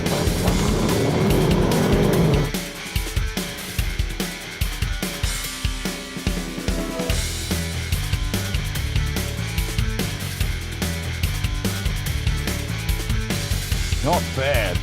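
A 2018 SEAT Ateca FR driven hard, its engine revving loudly with gear changes and road rumble after a brief opening of music, the drive noise steady and close throughout.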